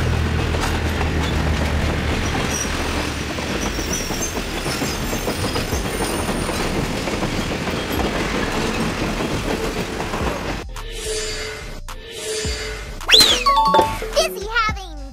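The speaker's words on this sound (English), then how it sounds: "A train powered by electricity from overhead wires or a third rail." Electric train running on rails, a steady rolling rumble with clickety-clack for about ten seconds, followed by sharper squeals and clanks near the end, with a voice speaking over it.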